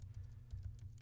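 Light typing on a computer keyboard, a handful of soft, quick key taps over a low steady hum, faint and close.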